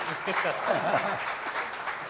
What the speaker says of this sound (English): I can't hear the claps more, you know.